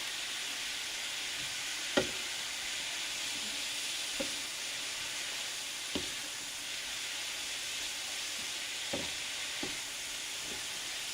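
Sausage and peppers browning in a frying pan give a steady, bright sizzle throughout, with a few soft knocks of a utensil against the pan now and then.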